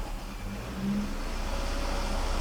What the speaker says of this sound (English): give it gas with the right foot, put the engine under load